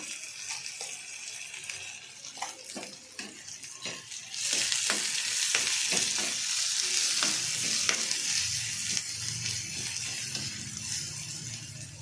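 Onions fry in a pan for thotakura pappu fry, a steady close sizzle with irregular stirring clicks that grows louder and denser midway.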